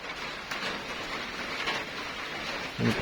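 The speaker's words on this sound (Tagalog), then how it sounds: "Silong muna, silong at naulan." Rain falls steadily on a small farm hut, a continuous even hiss with a soft thump near the end, heard alone.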